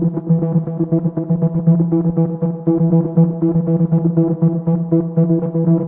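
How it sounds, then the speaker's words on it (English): Sustained Cnifonium synthesizer notes in a repeating melodic pattern, washed with reverb and echoing delay, steady and fairly loud with no voices. "I use the Cnifonium synth with a bit of reverb and delay."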